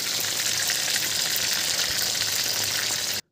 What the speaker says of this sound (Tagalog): Then ilagay na sa kumukulong mantika.